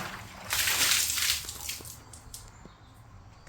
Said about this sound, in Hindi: भर लेते हैं जल्दी जल्दी घड़ा अपना